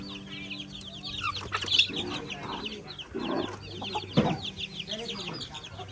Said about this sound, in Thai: ตัวนี้ไก่น้อย